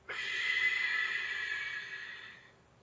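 A dancer lets out one slow, steady breath during a stretch, a soft airy exhale that holds for over two seconds before fading, close and alone.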